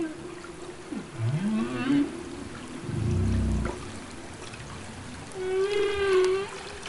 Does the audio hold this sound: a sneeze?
no